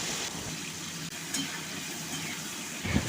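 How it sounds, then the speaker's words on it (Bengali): Prawns fry lightly in mustard oil in a kadai, giving a steady close sizzle and crackle throughout with a few brief stirring clatters and a louder spatter near the end; no one speaks. "এবার চিংড়ি মাছগুলো ছেড়ে দিলাম এর মধ্যে খুব বেশি ভাজবো না হালকা ভাজবো"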